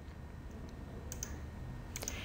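Quiet mouse clicks on a computer running Ecount ERP software: a soft pair around the middle and another pair near the end, over a steady low background hum.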